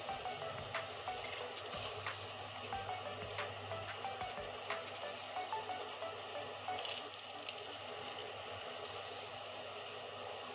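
Flower fritters frying in hot oil give a steady, fairly soft sizzle that runs throughout, with a few light clicks and a brief louder crackle near the end.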